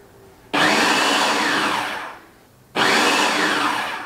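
Two pulses of an electric mixer whir through pie crust dough, each a loud sustained burst starting abruptly and easing off, with a short quiet gap between them.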